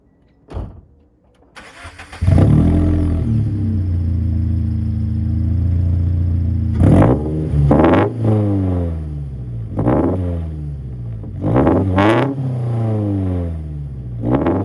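An FRS car fitted with headers starts up with a cranking catch, settles into a loud idle, then gets several sharp blips of revving that rise and fall, recorded close with no voices.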